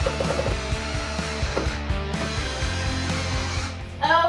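A power drill drives screws into pocket holes to attach table runners on a DIY round dining table, a close, steady motor whir with slight pitch changes and a louder burst at the end.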